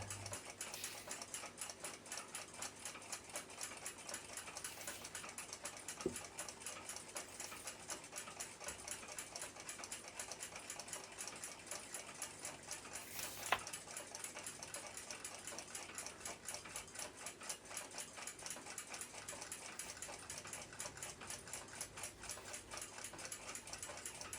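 A Seth Thomas pendulum clock with an adjustable pot-metal pendulum ticks in a quick, even mechanical rhythm, faint and close, with no voices.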